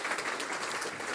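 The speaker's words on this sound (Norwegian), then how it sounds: "Applaus." Brief burst of audience applause at a breakfast seminar on climate risk and the Norwegian economy, soft and steady.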